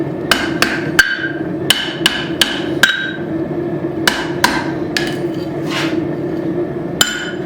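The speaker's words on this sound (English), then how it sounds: "Kind of want to forge the eye around the drift versus just hammering it in." Hammer blows on hot steel as a tomahawk eye is forged around a drift, sharp ringing strikes in uneven bursts of two to four, close and loud over a low steady forge roar.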